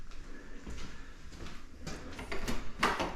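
A pocket door slides in its wall cavity in a foreclosed house in Eustis, Florida, giving a faint, scraping rumble with soft knocks that builds toward a louder clack near the end, in a quiet room with no talk.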